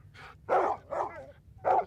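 A giant three-headed dog guarding an entrance in the Zork II text adventure game barks three times in a loud, close sound effect with short pauses between barks.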